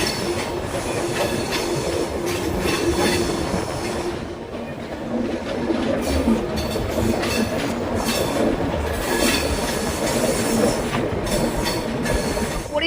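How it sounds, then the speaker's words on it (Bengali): The Agartala–Kolkata Garib Rath train runs on its tracks into New Karimganj in Assam, a steady loud rumble of wagons with rhythmic wheel clatter and occasional squeals. "করিমগঞ্জ, নিউ করিমগঞ্জ ঢুকছে আমাদের ট্রেন।"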